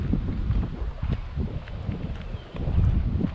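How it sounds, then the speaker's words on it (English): Gusty wind buffets the microphone during a walk through a large park in Montreal, a low rumbling roar that swells and eases, strongest near the end, with no speech. "Windy today."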